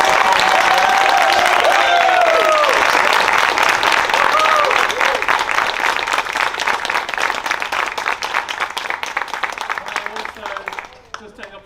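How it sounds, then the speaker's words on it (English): Audience applauds a children's Egyptian-themed school assembly performance, dense clapping mixed with high children's cheers and shouts, loud at first and gradually thinning out toward the end. "So can we give them a massive round of applause for that?"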